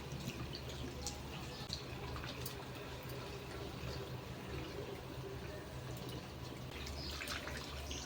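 Water sloshes and drips steadily as a small child is bathed in a household wash basin, a low, continuous wash of splashing with faint trickles and no clear talk.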